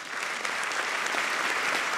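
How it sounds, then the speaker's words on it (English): An audience at a distinguished economics lecture breaks into applause to welcome the lecturer, a dense, steady burst of clapping that fills the whole moment without any talk. "please join me in welcoming John Taylor with a big round of applause."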